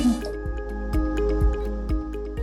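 Water drips and trickles into a metal pot in a series of small plops and splashes, close up, with no voices.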